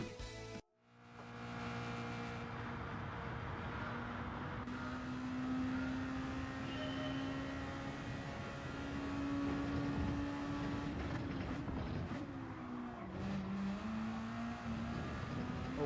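A car laps a circuit in Gran Turismo 7, its engine tone climbing and falling through gear changes, dropping sharply under braking into corners and pulling again, steady and close throughout.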